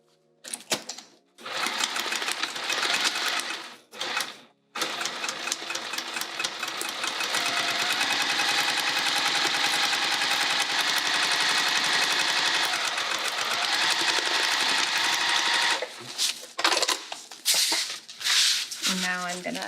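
A sewing machine sews a seam across a vinyl bag, its loud, steady motor whirring continuously for most of the stretch after a few short starts, then stopping into scattered handling noises near the end.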